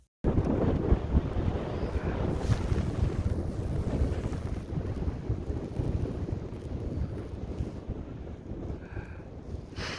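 Wind on snowy Glacier Peak roars steadily and close, buffeting the microphone with rough, gusty noise for the whole stretch.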